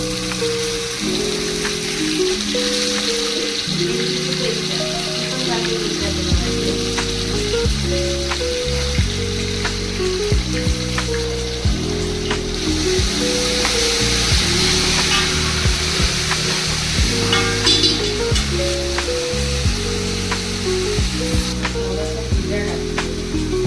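Onion and ginger-garlic paste sizzle steadily in a frying pan for a Malvani non-veg biryani, a loud, constant crackle with no break.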